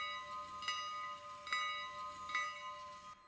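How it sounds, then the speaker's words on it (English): A locomotive bell rung in the RailRoader train simulator game, clanging at regular intervals about once every second over a soft steady hiss and hum, with no talk. "The bell does work, so if you press bell,"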